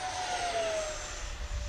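An E-flite SU-30 RC model jet flying at full throttle gives a steady, loud whooshing turbine roar with a faint high whine that slowly drops in pitch as it passes, heard alone without talk.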